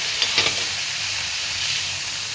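Finely chopped ginger and garlic sauté in a hot pan, making a steady, close sizzle with a couple of brief crackling bursts early on.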